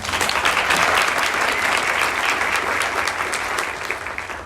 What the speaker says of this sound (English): thank you for the round of applause for our candidates